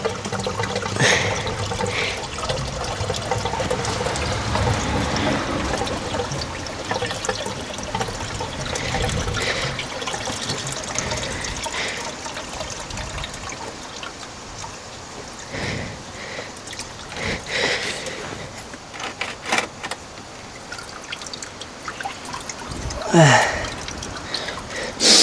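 Water runs steadily into a 5-litre container at a home water distribution setup with a broken motor, a continuous pouring and trickling rush with a few louder splashes near the end and brief murmurs of talk.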